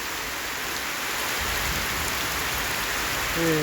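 Steady rain hisses evenly throughout, a dense wash of falling drops with no talking.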